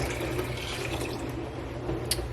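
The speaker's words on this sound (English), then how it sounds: "I'm just gonna pour this into our" Hot tea poured into a glass jar, a steady continuous liquid splash and gurgle running close by throughout, with a small clink near the end.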